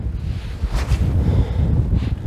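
Wind gusting past an open microphone while inshore fishing from a boat on the water, a steady low rumble with buffeting surges throughout and no voices.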